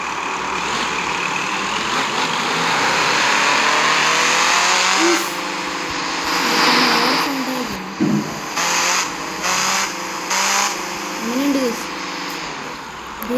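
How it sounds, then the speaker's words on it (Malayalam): An upgraded Mahindra Thar jeep engine runs close by, holding a steady loud drone and then rising in several short revs, with a voice speaking briefly over it. "ഇത് ജീപ്പിൻ്റെ ഒക്കെ സൗണ്ട്"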